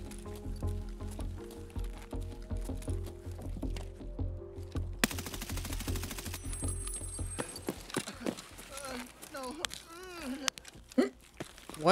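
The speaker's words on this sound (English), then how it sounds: "What is that f***ing death gun, bro?" Automatic gunfire rattles in Escape from Tarkov in rapid repeated bursts of close, sharp shots that build in the second half, mixed with other game noises and people talking.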